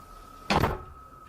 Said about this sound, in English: I just command you to shut the door.